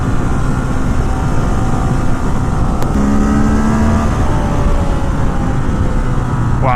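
A 2017 Ducati Monster 1200 R motorcycle rolling on at full throttle from third gear at about 70 mph, a loud continuous engine roar with rising pitch and heavy wind rush.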